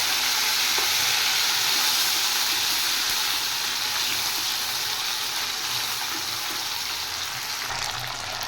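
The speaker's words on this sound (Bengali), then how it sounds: "এবার আমি দিয়ে দেব জিরে, আদা আর শুকনো লঙ্কা বাটা।" A paste of cumin, ginger and dried chili, added after black cumin seeds, fries in hot oil with a loud, steady sizzle and hiss that continues without a break, close up.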